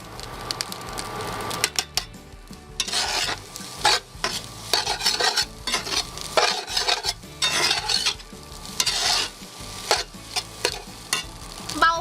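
Bologna ham being stir-fried in a Teflon pan, with repeated loud scraping strokes of a spatula and a steady sizzle running throughout, no voices.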